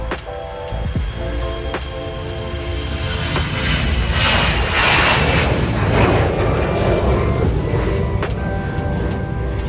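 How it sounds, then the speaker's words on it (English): Engines of an Air France A321 airliner in the Infinite Flight simulator, a steady broad jet roar that builds and holds loud and close, with tonal whines and a few sharp clicks on top, no talk. "Air France's A321 heading back to its hub, Paris Charles de Gaulle."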